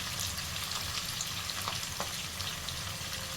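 Eggplant pieces seasoned with a little salt and turmeric fry over a high gas flame, giving a steady close sizzle with a few faint stirring clicks and no talking.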